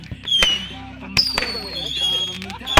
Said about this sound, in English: I can see fireworks.